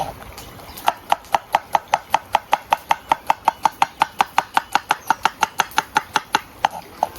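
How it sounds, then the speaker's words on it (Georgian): A knife chops cucumber finely on a board for a sour cream sauce, cooked outdoors, giving a quick, steady run of about thirty crisp, evenly spaced close taps with no talk. "აი ესე წვრილად შეგვიძლია დავჭრათ"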